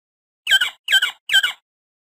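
A quail calls three times in a quick, evenly spaced series, each call a short, bright, two-part squawk that stands out close and clear against silence.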